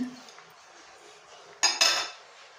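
Roasted sesame seeds and peanuts are stirred into sugar syrup in a dish for sesame laddus, giving two quick spoon-on-dish clinks and scrapes close by, with near quiet before and after.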